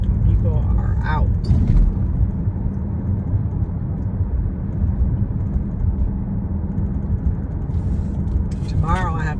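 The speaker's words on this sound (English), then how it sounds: "So much traffic, but it's rush hour time" Steady low rumble of rush-hour road traffic at 5 o'clock on a Friday, vehicles passing continuously at moderate distance, with a person talking briefly near the start and again at the end.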